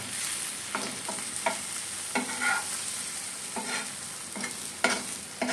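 Egg bhurji stirs slowly in a hot pan: a steady background sizzle with repeated unhurried scrapes of the spatula every second or so, close and clear, with no voices.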